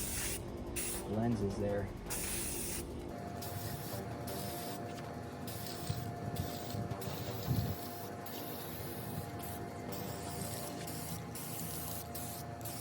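Rust-Oleum khaki camo spray paint hissing from a rattle can onto a taped MK12 Mod 0 rifle, a steady close broadband spray running through the clip with brief pauses, while someone talks over it.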